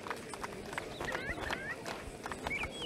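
Horse hooves clip-clop at a running pace in the Silver Buckle Stables video game, a quick irregular patter of close thuds while a person talks over them.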